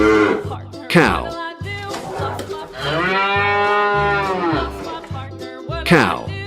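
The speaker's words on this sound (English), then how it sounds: "Cow." A cow moos in one long, drawn-out bellow with a rising and falling tone, loud and close, framed by shorter livestock-like calls and a repetitive background beat, with no speech over it.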